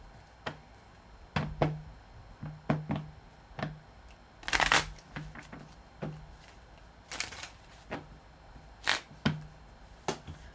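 Oracle cards are shuffled by hand in intermittent bursts of crisp riffles and soft taps, close and fairly quiet, with short pauses between them.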